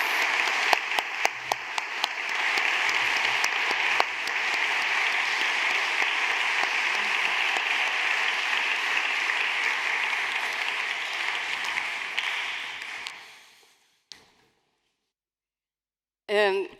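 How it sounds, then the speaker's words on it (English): Many hands clap in warm, continuous applause for Terry Albury and Lynzy Billing after a talk on secrecy, surveillance and grassroots resistance. It holds steady for about thirteen seconds, then trails off into silence before a brief voice returns. "Can we have a round of applause for our speakers?"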